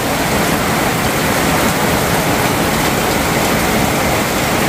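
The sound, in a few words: heavy rain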